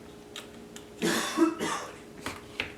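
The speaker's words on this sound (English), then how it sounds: "Still coughing." A person coughs in a short burst of several rough, close coughs that build in the middle, followed by a couple of softer throat sounds, with no talking.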